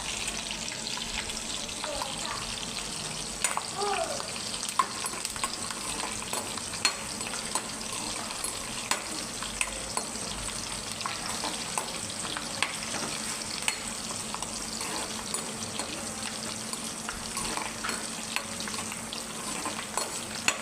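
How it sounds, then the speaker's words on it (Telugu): Onion, green chili and curry leaves fry in hot oil, a steady close sizzle and crackle with occasional stirring clicks from a utensil running throughout. "ఆయిల్ కాగి ఆనియను, పచ్చిమిర్చి, కరివేపాకు వేసుకొని"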